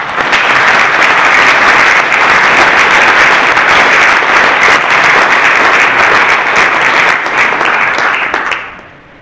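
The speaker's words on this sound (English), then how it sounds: "So I just want to applaud her." Sustained, loud audience applause at a convocation address, a dense wash of many hands clapping that holds steady for several seconds before tapering off at the end.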